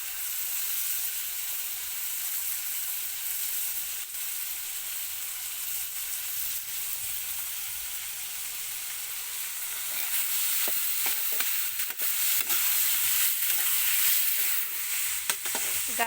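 Potatoes fry in a pan over a village wood fire, with a steady bright sizzle throughout and scraping stir strokes clustering in the second half; no talk.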